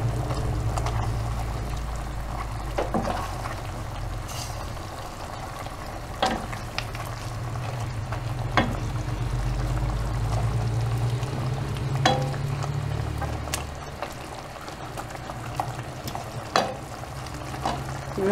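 A sizzling pan with thyme and wine being stirred, a steady frying hiss under occasional scrapes and clinks of the spoon, close and moderately quiet.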